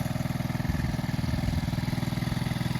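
A 1975 Honda Z50J motorcycle engine idles steadily with an even, rapid putter, close and continuous with no talk.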